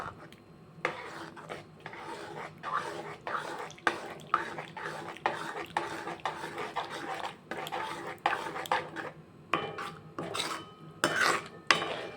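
A spoon stirs spiced dal with hot water in a metal pot. The clinks and scrapes are repeated and irregular, close and steady, and a quiet voice can be heard faintly at times.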